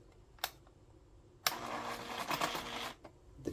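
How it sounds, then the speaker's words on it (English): Printer head of a Triumph Adler 8212PD nova vintage calculator chatters mechanically in a dense rattling burst of about a second and a half, framed by a few sharp isolated clicks, close up. "The printer head trying to print something."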